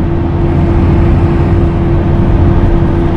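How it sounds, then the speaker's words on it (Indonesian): Engine noise drones steadily inside the cabin of a car cruising around 100 km/h on a Trans-Java toll road on Accelera Eco Plush tyres, a loud constant low hum with no talking. "Suara mesinnya masuk, peredaman kabinnya kurang."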